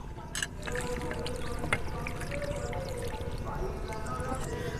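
Water pouring and trickling over a conch shell bangle as it is rinsed, a steady close wash that keeps running for several seconds with small splashes.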